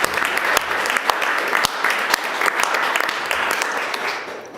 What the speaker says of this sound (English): If you don't mind joining me and giving them a warm round of applause